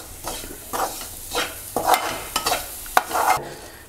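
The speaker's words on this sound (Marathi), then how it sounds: "ढवळत राहावे।" Modak filling being stirred in a pan on a low flame, a spoon scraping and swishing through the thick mixture in irregular close strokes over a faint sizzle.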